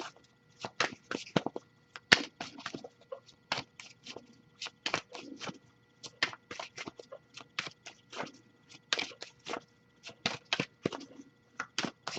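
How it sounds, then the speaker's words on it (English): Playing cards shuffled by hand, a long run of quick riffling bursts and soft slaps in irregular rhythm, close and fairly quiet, with no talking. "I'll shuffle for a little longer, see if we get anything"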